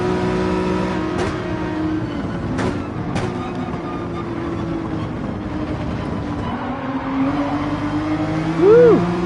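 A race car engine in Gran Turismo 7 drones steadily at high revs through a long sweeping turn, loud and continuous with tire noise and shifting pitch, ending in a brief rising whine.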